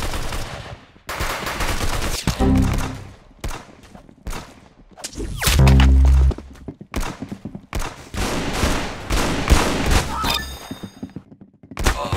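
Rapid bursts of gunfire in the Roblox shooter Arsenal, loud and close, with repeated sharp shots, a few heavier blasts and clattering action sounds.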